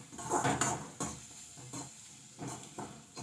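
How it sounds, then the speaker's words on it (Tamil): Onions sautéing in a pan while being stirred, with intermittent clanks and scrapes of a utensil against metal over a soft sizzle, close and moderately quiet, no speech. "இந்த வெங்காயம் பிங்க் கலரில் வர வரைக்கும் நல்லா வதங்கணும்."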